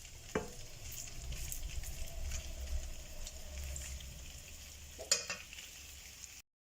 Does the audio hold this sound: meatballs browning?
yes